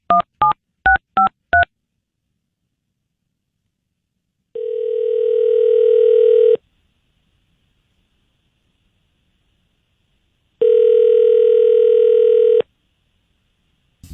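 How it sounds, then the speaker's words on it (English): A telephone call being placed: a quick burst of touch-tone dialing beeps, then two long, steady ringback tones separated by a pause, clear and alone with no talking. "So, Brett, we're going to call up Jackie."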